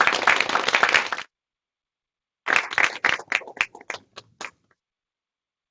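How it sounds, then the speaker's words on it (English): A small audience claps for the speakers at a tech talk, a dense burst of applause for about a second, then after a pause a second round that thins out into scattered individual claps. "Let's give a round of applause."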